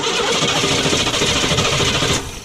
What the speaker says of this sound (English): I'm going to hold this little shredder valve down right here with a one-way while Shane cranks it